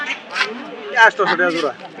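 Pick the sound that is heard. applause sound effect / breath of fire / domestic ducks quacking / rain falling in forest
domestic ducks quacking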